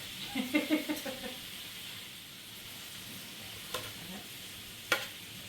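Filet mignon steaks sizzle in a pan with a soft, steady hiss. A few stirring or scraping clatters come early, and sharp ticks land later. The sound is close and moderate, with no talk.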